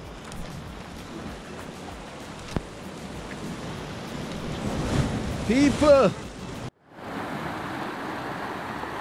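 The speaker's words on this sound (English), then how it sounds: "Guys, the water is roaring right now." Sea surf roaring off Navy Island, Jamaica, during a fishing trip: broad, rushing wave and wind noise close to the microphone, with a voice speaking briefly over it and a short cutout before the roar resumes.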